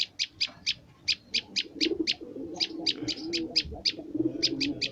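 A prenjak bird in a lovebird cage calls in a rapid series of sharp, high chirps. The notes come in short regular bursts over a low background rumble, close and clear.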